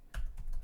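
A few quick keystrokes sound on a computer keyboard as a command is typed, close and moderately quiet, three soft taps in under a second with no talk.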